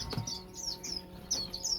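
Small aviary birds chirp in a birdshed, quick high twittering tweets arriving in short bursts a few times, fairly close and moderately soft over a faint low background.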